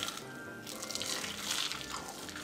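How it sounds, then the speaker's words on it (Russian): Boiling water is poured over squid in a kitchen, a steady, close splashing pour lasting throughout with slight swells in intensity. "Воду слила и последний раз заливаю кальмаров кипятком."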